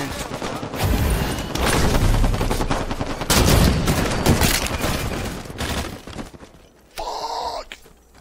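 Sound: gunfire in the Halo 5 video game

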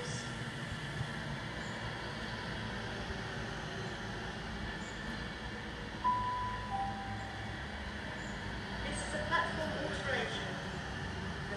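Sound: Virgin Pendolino train passing through Crewe station

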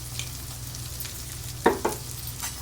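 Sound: onions sautéing and being stirred in a pan

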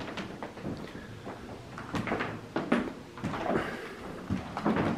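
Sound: squeaky wooden floor creaking in an old store

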